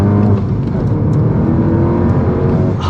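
Upgraded 400-horsepower turbocharged GTI engine pulling hard at full throttle through a canyon corner, a loud, steady, close-miked roar with a low droning growl that holds without break.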